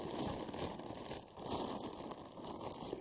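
Quiet plastic bag crinkling as a Pokemon Center plush from Japan is unpacked, soft rustles and crackles coming in close, irregular bursts.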